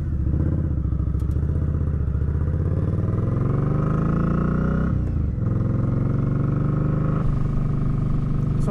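A motorcycle ridden along country roads, its engine loud and close throughout, droning steadily with rising revs, a brief dip as it shifts, then pulling on again, with no talking.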